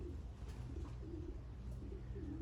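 Young racing pigeons, mostly this year's birds, coo softly in a loft, with low rolling coos repeating over a steady hum of background noise.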